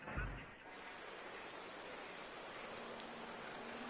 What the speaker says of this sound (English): And we have rain for the race, so it's just got all the more tricky in this race.